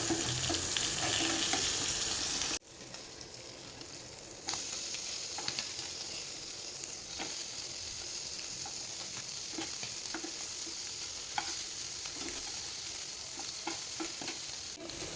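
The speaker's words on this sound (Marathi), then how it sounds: "आणि इथे मच्छीला एका साईडने फ्राय करून 5 मिनिटं झालेली आहेत. दुसऱ्या बाजूने पलटून घेते." Fish sizzles steadily in a frying pan, with a loud burst of hissing at the start, then a quieter continuous fry after being flipped to the other side, marked by occasional small crackles and pops.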